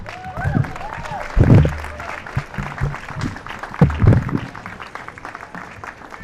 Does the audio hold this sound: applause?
yes